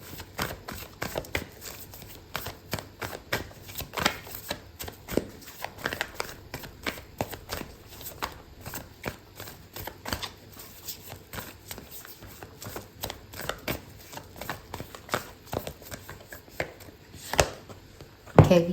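Oracle cards are handled, shuffled and pulled from a deck, giving a steady stream of close, crisp papery flicks and riffles with a few sharper snaps near the end, with no talking.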